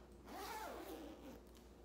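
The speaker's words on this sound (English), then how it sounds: "zip up our jacket so it won't fall off when we go to hang it up" A jacket zipper is drawn up in one smooth, quiet pull lasting under two seconds, close and alone against a faint room hum.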